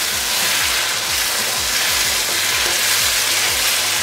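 Pumpkin frying in a pan, a loud, dense, unbroken sizzle heard up close throughout, with no talking.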